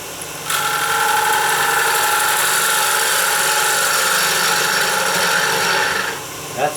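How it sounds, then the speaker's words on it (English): A 5/8 Thompson bowl gouge cuts away a white oak tenon on a spinning lathe, giving a steady, loud rasping hiss that starts abruptly, holds for about five and a half seconds, then stops, with a faint motor hum beneath. "I'm going to use a Thompson bowl gouge"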